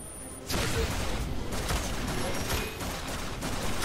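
Gunfire and a blast from the video game Flashback: a sudden loud burst of noisy, crackling fire that stays dense and sustained, with rapid shot-like hits throughout.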